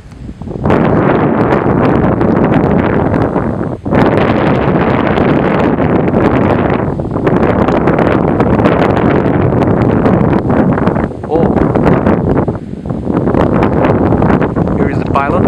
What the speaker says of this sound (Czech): flying in a not so strong, but very nice wind.